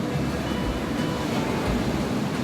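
Strong sea waves on a rocky shore near Osaka make a constant close roar of surf with some low rumbling swells and no one speaking.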